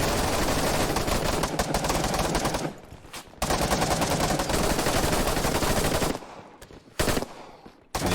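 Sustained automatic gunfire from AI soldiers in the video game Operation: Harsh Doorstop, loud dense bursts running almost continuously, broken by a couple of brief pauses and a final short burst.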